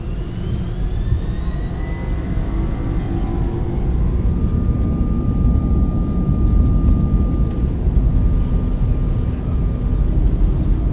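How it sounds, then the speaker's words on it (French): An airplane's jet engines roar loudly and steadily as it accelerates along the runway for takeoff, with a continuous rising whine over a deep rumble, close and filling the cabin. "Nous sommes sur la piste de décollage. Nous avançons."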